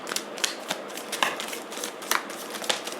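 Tarot cards being shuffled and drawn during a reading: a close, soft series of quick papery flicks and riffles in an irregular rhythm, with no voices.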